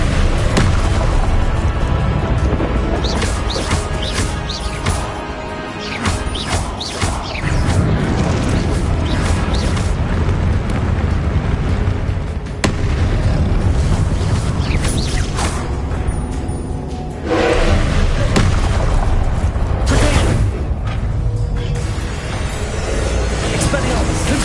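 Confringo fire spells blast repeatedly in Hogwarts Legacy combat, loud booming bursts mixed with clashing spell effects and a dense game soundtrack, with spoken spell incantations layered on top throughout.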